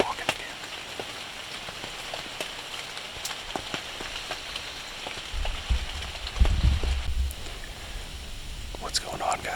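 Steady rain patters on a hunting blind in the Kentucky woods during deer season, a soft continuous drizzle with scattered drops and a low rumble swelling near the end.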